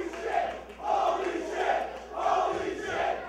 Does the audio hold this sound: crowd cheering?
yes